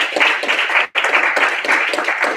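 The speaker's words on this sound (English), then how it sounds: "A round of applause for you" An awards ceremony crowd claps steadily and loudly, with a brief dip partway through before the applause resumes at full strength.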